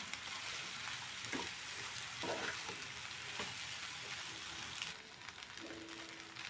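Masala pasta stirred in a frying pan: a steady soft sizzle with scattered scraping and clacking of the spoon against the pan, fairly quiet and close, with no talking.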